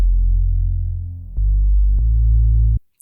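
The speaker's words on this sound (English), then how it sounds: "Now, this is the bass." A deep, sustained synth bass from a beat made in FL Studio, droning loud and alone with a few brief note changes before cutting off.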